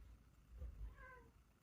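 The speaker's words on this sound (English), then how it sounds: "hear my cat" A house cat lets out a single short meow, faint and somewhat distant, over a low background rumble with no talking.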